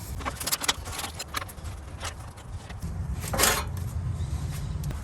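Metal clanks and jangles near an underside of a Lexus GX 460 as its skid shield, held by two 12mm bolts, is unbolted and pulled off, with scattered taps and rattles and no talk.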